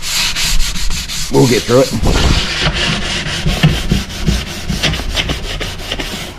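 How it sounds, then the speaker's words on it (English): Hand sanding varnish off a wooden surface, steady rhythmic scratchy rubbing strokes up close, with someone speaking briefly partway through. "I hope the sanding's not going to be too loud"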